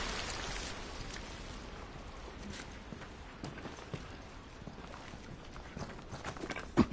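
Steady rain patters across the ground in The Last of Us, a dense wash of drops with scattered sharper taps like footsteps, moderately loud and continuous with no talk.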